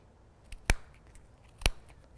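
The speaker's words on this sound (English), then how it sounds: "Sharp scissors are your friend for this project." Sharp scissors trimming a yarn pom-pom give two crisp, distinct snips about a second apart, close and clear against a quiet background.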